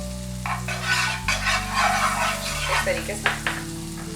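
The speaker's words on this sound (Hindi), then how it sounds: "बटर डालेंगे। बटर को पूरे पैन में फैला लीजिए" Butter sizzles softly as it is spread around a pan, a low continuous frying hiss with scraping strokes, while a person talks over it.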